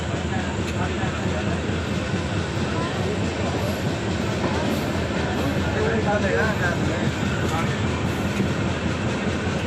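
A railway station at night carries a steady, dense rumble of trains and rail traffic with faint clicking of wheels, and people talk in the crowd underneath the continuous noise.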